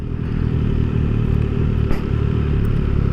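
A 2024 MV Agusta motorcycle on a demo day ride gives a steady, loud, close engine drone with rumble and mechanical clatter, with no talking.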